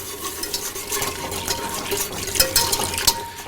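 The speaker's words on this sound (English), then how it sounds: "And you want to keep whisking this so you don't get these lumps to form." A whisk stirs milk into a roux in a pot for jalapeno bacon mac and cheese, a continuous close swishing and scraping with a few louder clinks against the pan.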